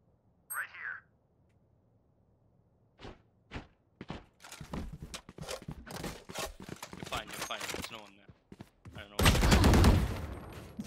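Gunfire in the Valorant video game: sharp shots and rapid bursts with footsteps, sparse at first and then dense, ending in a loud sustained burst.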